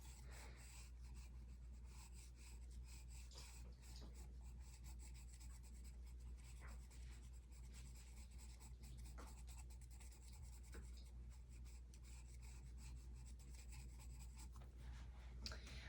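Graphite pencil shading a gradient on drawing paper, a soft continuous scratchy rubbing with light strokes that stays fairly quiet and steady throughout, close to the page, with no talking.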